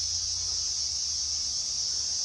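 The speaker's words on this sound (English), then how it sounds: "Cicadas are really loud down here nowadays." Loud, steady cicada chorus outdoors near an old tramway tunnel in Canungra, a continuous high buzzing drone that fills the clip on its own without pause.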